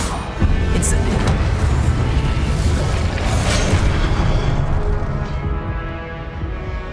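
Incendio fire spell cast in Hogwarts Legacy, a loud continuous roaring whoosh of flame and booming bursts that sustains for several seconds before tapering off slightly at the end.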